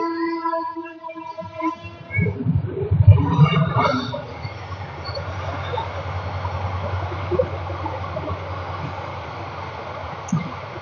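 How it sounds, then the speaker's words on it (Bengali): A long train passes near Cox's Bazar: a drawn-out horn-like tone opens, then a loud, steady rolling rumble that carries on to the end, with no talk over it. "ভালোই তো ট্রেন যায় দেখতেছি মাশাল্লাহ"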